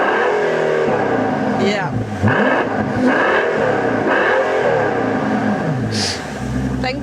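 A 2015 Mercedes-Benz S65 AMG's V12 engine revs loudly and close in several rising and falling pulls, with a brief spoken word over it.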